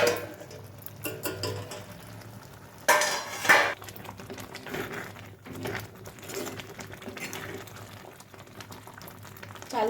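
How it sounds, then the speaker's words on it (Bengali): Ash gourd and lentils boiling in a covered pot: steady, dense bubbling and simmering throughout, with occasional clinks of metal utensils against the pot and no talking. "এবার চাল কুমড়োটা সেদ্ধ হওয়ার জন্য ঢাকা দিয়ে রাখবো"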